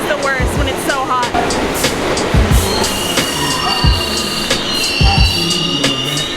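New York City subway train at Times Square, loud and close, with rhythmic wheel clatter, sharp metallic squeals and screeching rising and falling as the cars roll through the station.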